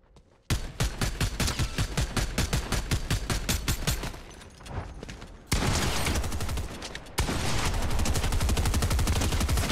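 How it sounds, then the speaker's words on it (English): Rapid automatic gunfire in Fortnite, firing in fast, even bursts, then giving way to dense, sustained loud shooting and blasts with little pause, close and intense. "Did I not get any shots off? Fuck that shotgun, man."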